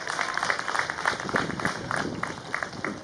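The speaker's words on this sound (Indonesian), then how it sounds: "Gak usah tepuk tangan, di sana saya gak diundang." An audience at an Indonesian stand-up comedy show claps steadily for about three seconds, a dense patter of many hands at moderate loudness with no voices over it.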